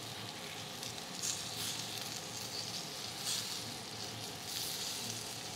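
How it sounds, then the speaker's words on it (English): Bison steak frying in butter in a pan gives a steady, close sizzle with soft crackling pops, continuous throughout with no talking. "We're gonna add a little bit more butter to this pan."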